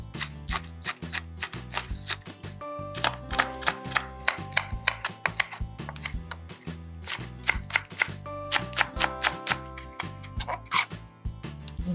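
Almonds, with walnuts and pumpkin seeds, are chopped finely with a knife on a board in a home kitchen, giving fast, close, crisp knocks in quick bursts with short pauses and no talk.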